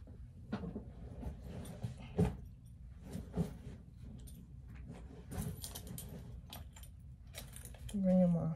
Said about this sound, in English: Bringing my keys, I'm bringing a pencil.